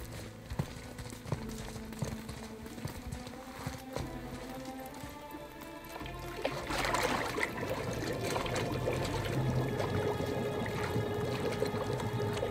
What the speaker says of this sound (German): Tauche jetzt seinen Kopf ins Wasser und lass nicht los.